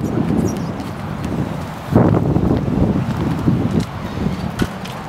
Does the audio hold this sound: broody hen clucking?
no